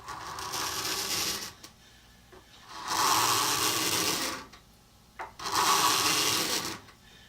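Cheap spring-steel putty knife scraping a surface in three long strokes, each a rough hissing rasp lasting over a second, separated by short pauses, close and loud with no talk.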